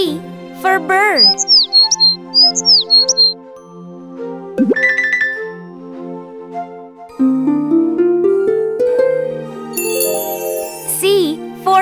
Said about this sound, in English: B for bird.